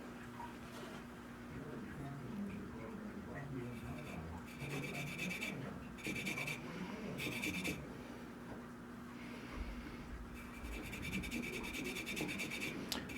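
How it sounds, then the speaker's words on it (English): A lacewood bowl is sanded on a spinning wood lathe with fine grit up to 1500, giving intermittent raspy rubbing bursts over a steady low motor hum. "I'm going to continue sanding this down to 1500 grit"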